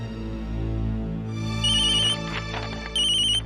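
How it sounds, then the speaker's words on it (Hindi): A mobile phone rings indoors with a bright electronic ringtone that sounds in repeated bursts over a low background hum, with no voices. "अरे सूर्य कमल, तुम्हारा फोन बज रहा है।"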